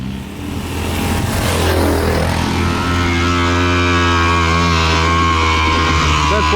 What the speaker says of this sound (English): That's full throttle downhill, that's not good. Sounds like the pipe's cut off.